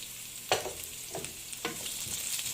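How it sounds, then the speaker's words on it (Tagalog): Onions sautéing in oil in a pan for chicken curry, with a soft continuous sizzle broken by a few distinct spatula scrapes and stirs, faint and close, no talk. "sibuyas guys. Ayan, gisa lang natin siya guys."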